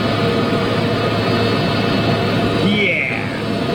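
A Qatar Airways jet departs at Schiphol, a steady, distant jet engine roar holding throughout, with a voice faintly audible over it near the end.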